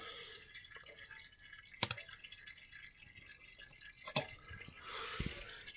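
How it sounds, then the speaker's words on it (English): Transmission oil from the sump of a BMW F Series ZF automatic gearbox draining into a container, heard as faint irregular drips and splashes with a soft liquid trickle underneath. "So what we're draining is essentially the oil that's in the sump"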